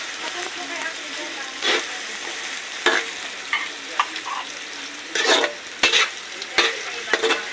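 Argentina corned beef sautés in a pan for spaghetti sauce, giving a steady soft sizzle broken by repeated scraping and stirring strokes of a utensil against the pan.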